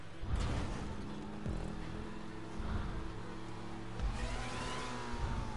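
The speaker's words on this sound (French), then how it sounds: "J'adore les boosts, le bruit qu'ils font." Car boost in the racing video game GTA V, rising engine roars that surge and swell repeatedly, loud and close, with several revving bursts layered over a continuous motor drone and no talking.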